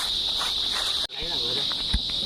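Insects and crickets chirp outdoors in a loud, continuous high-pitched drone that cuts out for a moment midway and then resumes, with soft rustles beneath.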